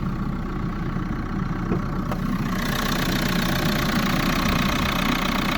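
A 2017 Renault Megane 4's 1.5-litre K9K diesel engine idles steadily nearby, a continuous low rumbling drone with a faint knocking texture and no voices.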